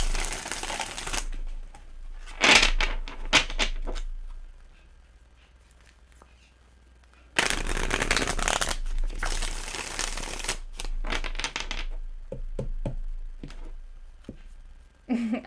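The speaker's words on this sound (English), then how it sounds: "Let's like really give this a good shuffle because I had a lot of negative cards." Tarot cards are shuffled by hand in close, crisp bursts of riffling and slapping, several separate rounds broken by quiet pauses, with no one talking over them.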